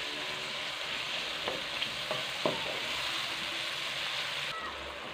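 A steady, hissing sizzle of green onions frying in a hot pan for fish curry, with a few light scrapes and taps of a utensil stirring.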